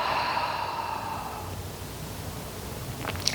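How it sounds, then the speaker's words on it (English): A long, steady breath exhaled during a relaxing Pilates breathing exercise, a soft airy rush fading over a few seconds, close to the mic and alone. "Nice big inhale. And exhale."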